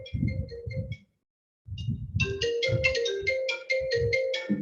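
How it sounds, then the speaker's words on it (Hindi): A mobile phone rings with an incoming call, its melodic ringtone looping in repeated phrases, with a short silent gap before it resumes, loud and near. "जीएसबीएम से फोन आ रहा है डॉक्टर गोपाल का"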